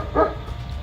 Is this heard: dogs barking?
yes